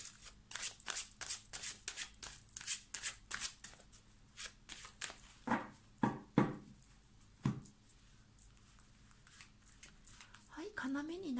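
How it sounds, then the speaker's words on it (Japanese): Tarot cards are shuffled and picked: a rapid run of crisp riffling bursts, then a few slower, louder card snaps and slides, with a brief voice near the end. "要になるカードを選びます。"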